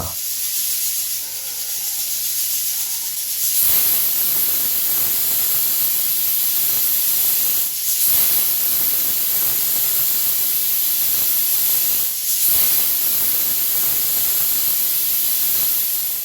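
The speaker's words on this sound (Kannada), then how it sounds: "ಕುಕ್ಕರ್ ಮುಚ್ಚಳ ಮುಚ್ಚಿ ಈ ಥರ 3 ವಿಷಲ್ ಹಾಕ್ಸ್ಬಿಟ್ರೆ ಸವಿಯಲು ಸಿದ್ಧ" A pressure cooker cooking thondekai kadle kalina gojju hisses steam loudly and steadily, with a sharp whistling burst at the start and brief surges about every four seconds.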